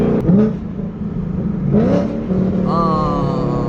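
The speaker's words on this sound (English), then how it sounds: "It's weird auto rev match, isn't it?" A Ford Mustang engine revs with automatic rev matching, throwing quick rising blips in pitch during downshifts over a steady running drone, close and fairly loud.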